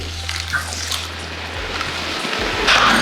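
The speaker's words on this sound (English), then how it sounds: "Place your coffee into the bowl, pour on your hot water, make sure you cover all of the grounds." Hot water is poured from a kettle onto ground coffee in a bowl for cold brew, a close splashing, gurgling stream over a low steady hum that grows louder toward the end, with no talking.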